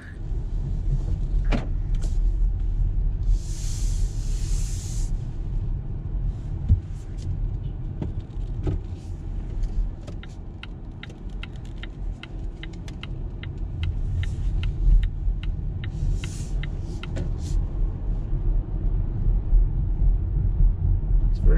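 Cabin of a Polestar 2 electric car on a bumpy road with one-pedal driving on, a steady low road rumble and hum filling the interior, with intermittent clicks and small knocks and brief quiet talk.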